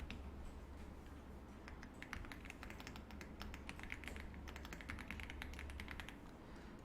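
Keys clatter on a computer keyboard while cells are selected in an Excel spreadsheet, as in a run of light, quick typing taps. The clicks are faint and closely spaced over a low room hum, and no one talks.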